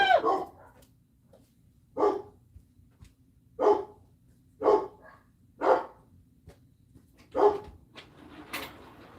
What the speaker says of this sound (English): Let me shut my door so you don't hear the dogs barking.